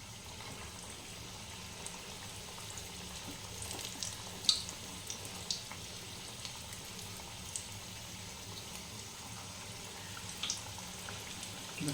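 Spinach pakoras frying in half-hot oil in a kadai over a medium flame, a steady close sizzle and bubbling with scattered small pops, no voices.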